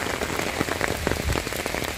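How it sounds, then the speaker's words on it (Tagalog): Steady rain pours down in a mountain setting, a dense, loud patter of drops drumming on surfaces without a break and with no voices. "Pag ganito umuulan, wala ka mapuntahan."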